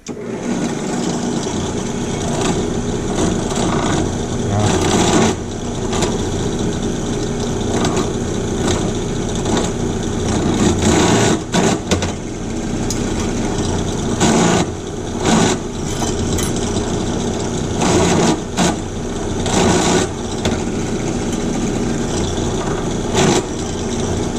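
A handheld tool deburrs drilled holes in a steel knife blank during knife pattern making, giving a loud buzzing, grinding whir that runs in repeated bursts with short pauses, close up and without talk.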